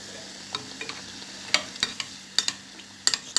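Triangle beignets frying in hot oil, heard as a steady low sizzle broken by sharp scraping clicks and stirring taps at irregular intervals, close and fairly quiet with no talking.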